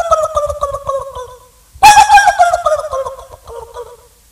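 A performer at a school arts festival mimicry stage imitates turkeys with rapid warbling gobbles, one loud burst midway, all close and voiced without other sounds.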